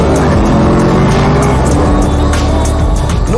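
A Mercedes SLR McLaren with a 5.5-litre supercharged V8 roars loudly and steadily up close, with a deep, continuous engine note under sharp bursts of higher-pitched noise.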